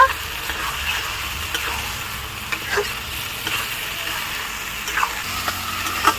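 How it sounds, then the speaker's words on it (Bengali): Mutton sautéing with Kashmiri chilli powder in a pan gives a steady close sizzle, broken by occasional scrapes and knocks of stirring, with no talk. "এবার দিয়ে দেবো আর একটু কাশ্মীরি লঙ্কার গুঁড়ো এবার ভালোভাবে কষিয়ে নেব"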